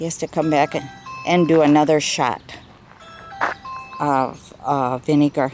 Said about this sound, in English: That's my doorbell. We have one of those doorbell cameras.